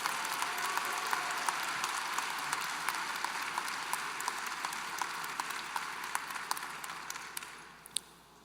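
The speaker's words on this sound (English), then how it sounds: "let's have a round of applause for all those students in the interdisciplinary programs" Applause from the audience at a university graduate commencement ceremony fills the hall for several seconds, steady dense clapping that gradually thins and fades out.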